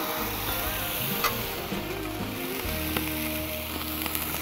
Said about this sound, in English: Get one of these basting pans, and we'll melt this cheese down. Get a steam going there.